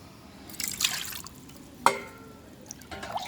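Plain water poured into liquid plant fertilizer to dilute it, heard as two short trickling, splashing bursts with a sharper drip-like splash in the middle, close by and fairly quiet, with no talk.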